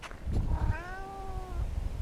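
A pet cat named Smokey lets out a single clear, drawn-out meow close by, set against steady low background noise outdoors near grass and wildflowers.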